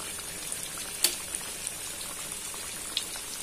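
Tempe bacem simmers in a sweet broth over a low flame, giving a soft, continuous bubbling with scattered small pops and one sharper blip, fairly quiet and close with no voices.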